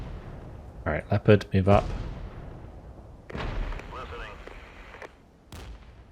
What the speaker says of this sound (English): Artillery coming in hot.